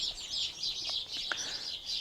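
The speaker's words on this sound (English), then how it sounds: "It seems there's a gang of sparrows having a bit of a set to." A gang of sparrows squabbling outdoors, a steady mass of shrill high chirps and twitters with short sharper calls, heard at moderate distance with no talk over it.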